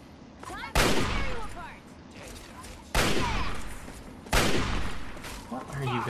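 Three loud gunshot blasts from the video game Fallout 3, close and sharp with long decaying echoes, spaced about two seconds apart, with voices talking in between.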